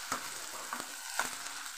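Fish pieces fry in a pan with onion and ginger-garlic paste, a soft steady sizzle with a few light scrapes and taps as they are stirred, close and fairly quiet.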